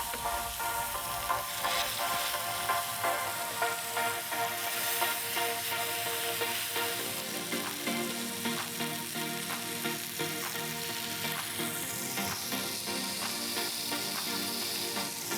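Turkish leek burgers sear in a hot pan with a loud, steady sizzle and crackle of frying fat that runs unbroken throughout.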